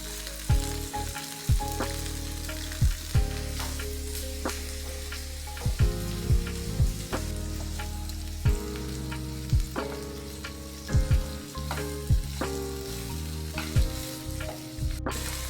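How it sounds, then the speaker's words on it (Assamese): Onion, garlic and chili frying together in a pan for a pointed gourd (potol) dish, a steady loud sizzle with repeated sharp clinks of a spatula stirring, no talk. "এতিয়া পিঁয়াজ, নহৰু আৰু জলকীয়া ইয়াত একেলগে দি দিলোঁ ইয়াৰ কেঁচা ভাৱখিনি যাবৰ কাৰণে।"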